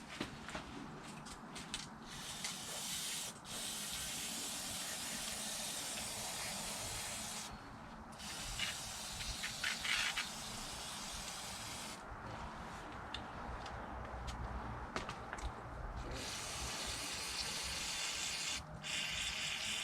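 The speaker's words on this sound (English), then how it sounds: "So I'm gonna get some gun cleaner. Point this downwards." Gun cleaner sprays from an aerosol can onto the feed ramps of an AR-15, giving a steady, close hiss that runs for long stretches with a few brief pauses.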